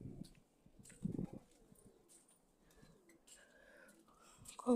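Soft, low pigeon coos come in short bursts over a quiet background, with faint rustling and a louder burst at the very end.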